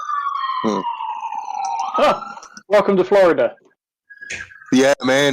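Emergency vehicle siren wailing outside in Florida, its rising and falling tone sweeping under and between nearby talk and laughter, with a short quiet gap midway.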